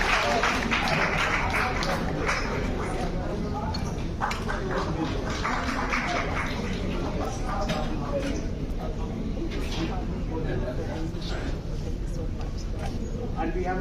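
An audience at a formal India–Africa friendship ceremony in Delhi applauds an ambassador, a sustained wash of clapping mixed with chatter and a voice over a loudspeaker.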